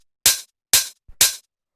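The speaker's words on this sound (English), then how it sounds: "Starts with this main open hi-hat. It sounds like this." Three bright, sizzling open hi-hat hits from a minimal house percussion kit, each ringing briefly before cutting off, spaced evenly about half a second apart with silence between.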